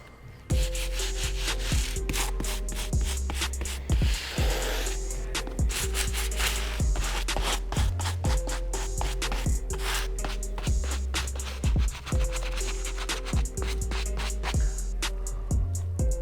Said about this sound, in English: I'm gonna go ahead and take this medium bristle brush and gently go over the white stitching here